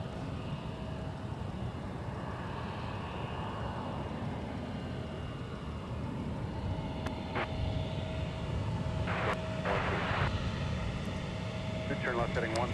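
An airliner taxis toward the threshold of runway 17 at MSP airport as a steady, low engine rumble and hiss at a distance, with a voice talking over it and a few brief higher tones near the end.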